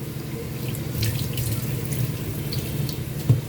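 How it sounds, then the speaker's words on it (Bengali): Water runs steadily from a tap over a large two-kilogram sea coral fish being washed, a close, continuous splashing rush with a few small drips and knocks and no speech. "মাছটাকে আমি প্রথমেই সুন্দর করে ধুয়ে নিয়েছি।"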